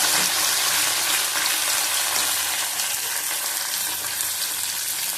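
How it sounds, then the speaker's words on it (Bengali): Panch phoron spices frying in hot oil, a steady, loud broadband sizzle that holds evenly throughout with no voices. "ভালো করে ভেজে নেব।"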